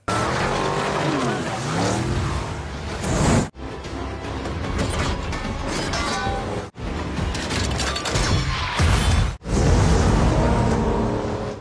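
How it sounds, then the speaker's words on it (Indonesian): In a Fast X car chase scene, a car modified with a rocket launcher races away: loud engine roar, screeching tires and skids, broken by sharp cuts between shots. "Jacob akhirnya membawa Little B kabur menggunakan mobil yang telah dimodifikasi menggunakan rocket launcher."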